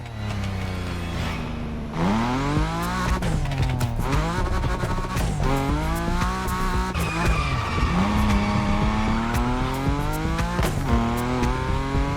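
A car drifts in The Crew Motorfest, its engine roaring and revving in rising and falling sweeps while the tires squeal continuously through long slides, loud and close.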